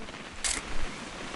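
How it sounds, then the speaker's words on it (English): A single camera shutter click sounds in What Remains of Edith Finch, one short sharp snap over quiet ambient background. "Just want to get a shot of you, Dawn, then we can take off"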